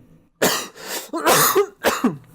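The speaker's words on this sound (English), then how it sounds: "So dank that he has to cough." Three or four harsh coughs in quick succession, loud and close, separated by brief silences.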